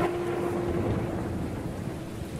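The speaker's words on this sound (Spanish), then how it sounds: "Después vino un sonoro y largo trueno." A long, loud roll of thunder rumbles without a break across the whole moment, heavy and deep, with a hiss like rain beneath it. Used as a storytelling sound effect, with no voice over it.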